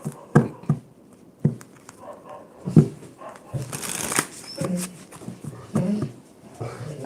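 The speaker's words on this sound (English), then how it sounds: "Let me shuffle the clarifying deck." A deck of tarot cards is shuffled by hand: irregular riffling, slaps and soft taps of cards, close and uneven over several seconds, with faint background noise between.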